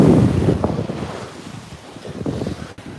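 Ocean waves on a Cancun beach thick with piled-up seaweed, heard as a steady broadband wash and surf rumble with strong gusting wind buffeting the microphone, fairly loud and close, with no talking.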